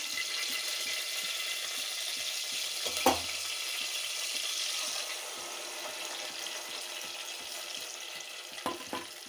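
Onions and two green chillies frying lightly in a pan for a Telugu chipakura dish give a soft, steady sizzle throughout, with a brief clatter near the start and another toward the end.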